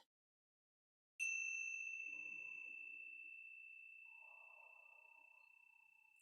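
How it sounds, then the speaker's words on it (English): A meditation bell is struck once, its clear metallic tone ringing out and slowly fading over several seconds in an otherwise quiet room, with faint soft rustling beneath. "So I'm actually going to ring this bell. It's called a tincture or meditation bell."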